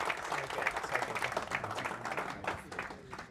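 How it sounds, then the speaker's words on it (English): Round of applause from the audience at a Porsche community awards ceremony: dense, sustained hand clapping, fairly close and lively, slowly tapering toward the end with little talk. "Ladies and gentlemen, please give the biggest round of applause"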